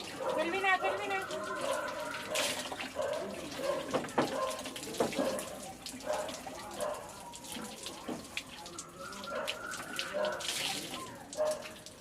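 Clothes are washed by hand under a running tap, water splashing and gushing unevenly with bursts of sloshing and wringing over about twelve seconds, close by.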